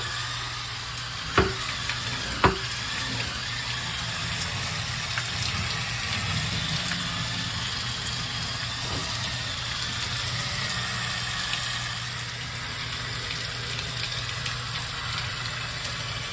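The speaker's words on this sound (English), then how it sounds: "Gonna go ahead and spend a few minutes and clean it up with this brush." Continuous whirring hiss of an electric spin scrubber brush scrubbing a dirty bathtub, a steady motor drone with wet brushing noise, plus a couple of sharp knocks early on, close and even throughout with no talking.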